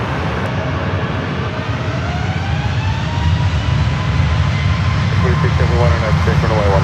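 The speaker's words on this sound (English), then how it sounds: "here is the flight again the next day on the bigger aircraft" An airliner roars at San Francisco International Airport, a loud, continuous engine drone with rising and falling tones as it moves near the runway, while a voice talks over it.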